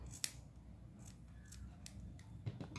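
Scissors snip the yarn tail on a crocheted amigurumi Easter bunny, a few soft, close clicks of the blades over quiet room tone.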